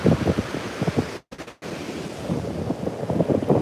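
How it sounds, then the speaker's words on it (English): Loud ocean surf rolls and crashes onto a beach, with heavy wind buffeting the microphone. The rumble briefly cuts out, then the waves surge back, sounding close and continuous, with no talk. "Waves are thunderous today."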